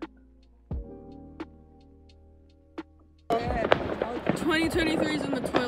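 New Year fireworks burst at night: a few sharp, spaced booms echo at a distance, then a dense crackling barrage erupts, with a person talking and exclaiming over it.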